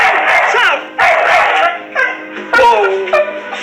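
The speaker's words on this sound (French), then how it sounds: "leur chien Saffron s'est immédiatement précipité vers elle et s'est mis à aboyer" A dog barks and yips excitedly at a Halloween doll, in a rapid series of close, loud barks with whining tones, no talk.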